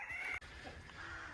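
Chickens in a straw-bedded permaculture coop cluck faintly in the background, a few soft calls over a low ambient hiss, with no talk.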